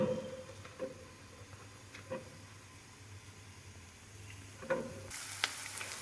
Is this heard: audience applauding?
no